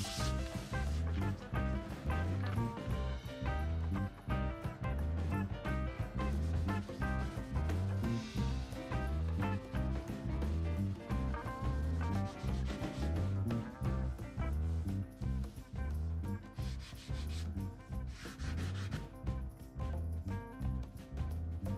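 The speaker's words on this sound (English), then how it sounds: "Now I will sand the whole surface so that it becomes flat, with no chips" Hand sanding the surface of a Telecaster guitar body to strip factory varnish, a close, steady series of rhythmic back-and-forth rubbing strokes throughout.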